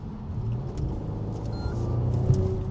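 A car in sport mode accelerates along a road, a steady low engine rumble swelling gradually over a few seconds, close and moderately loud with no talk.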